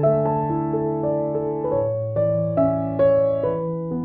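Piano plays a gentle, legato song phrase with sustained chords and a moving bass line, close and clean, no voices.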